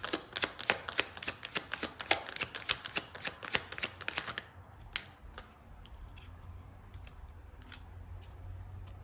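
Tarot cards shuffled by hand: a fast run of crisp riffling snaps and slaps for several seconds, then softer scattered card flicks and rustles over a low room hum, with no talking.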